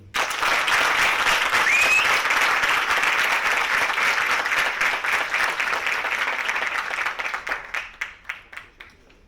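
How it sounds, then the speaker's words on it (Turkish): Dense audience applause fills a Turkish film gala, loud and sustained, then thins into scattered individual claps that fade toward the end. "Sinema sektörünün duayeni herkesten büyük bir alkış istiyorum"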